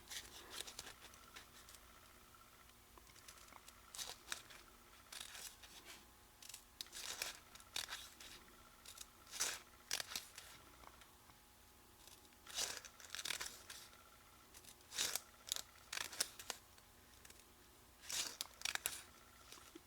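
Scissors cutting paper for a paper cornflower, a quiet close series of crisp snips and paper rustles in irregular bursts, with no talk.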